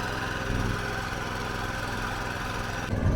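A tractor engine runs steadily in a rice paddy, a close, low, rhythmic chugging that swells slightly at the end.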